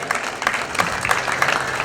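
Short burst of audience applause for a politician at the Festival of Chariots in Liverpool, a crowd clapping steadily with individual claps audible in a quick rhythm.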